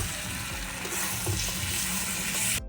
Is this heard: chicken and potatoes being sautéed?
yes